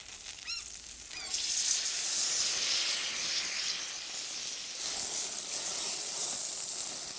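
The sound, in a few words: fish simmering and steaming in fresh tomato sauce in a pan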